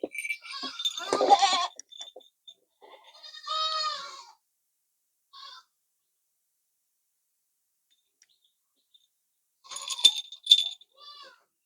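Goats bleating in short bursts while being fed deworming tablets, the cries loud and close with brief clinking, then a long quiet gap before another cluster of bleats.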